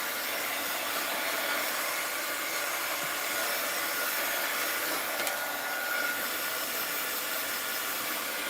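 Steady blowing roar of a heat tool aimed at the back of a page to dry wet paint blobs in mixed-media art, constant and close for the whole stretch with no talking.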